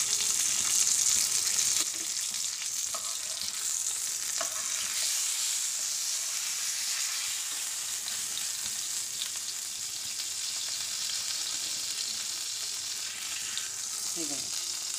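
Pomfret fish fries in hot oil with a steady, dense sizzle and crackle that holds near and fairly loud from start to finish. A few soft clinks and stirring touches come through, and no voice is heard.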